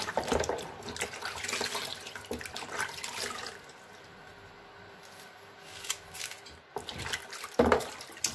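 Tap water running into a sink while onions are washed by hand, a steady close splashing stream with brief interruptions and small knocks of handling.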